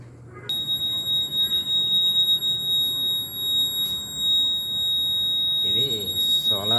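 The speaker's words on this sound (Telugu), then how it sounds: "ఇది బైక్ది బజర్. లెఫ్ట్ రైట్ ఇండికేటర్ వేసినప్పుడు కీక్ మనం మోగుతుంది కదా, ఆ బజర్ ఇది." A motorbike indicator buzzer rigged as a sensor alarm gives a continuous high electronic tone that starts abruptly and sounds steadily, with someone talking over it.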